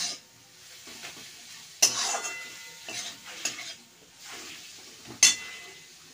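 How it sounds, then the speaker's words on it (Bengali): Chili powder, turmeric and spices fry in a pan while a utensil stirs, a soft sizzle broken by a few sharp metallic clinks and scrapes, nearby and moderately quiet. "লঙ্কার গুঁড়ো কষিয়ে নেব।"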